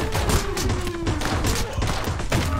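Gunfire from the first-person shooter Anger Foot, a dense run of rapid shots with thuds and impacts packed close together at steady loudness over busy game sound.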